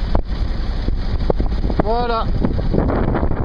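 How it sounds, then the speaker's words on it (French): Steady wind blowing over a sailboat at sea with both large sails hoisted, a constant rushing noise under brief speech and water sounds. "il y a un beau petit vent"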